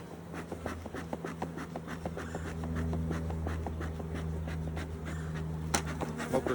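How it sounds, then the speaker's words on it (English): Honeybees buzz around an opened hive during a Demaree split, a steady close drone with individual bees swelling as they pass near, faint shuffling underneath and no talk. "they're buzzing me, but they're not really trying to sting me"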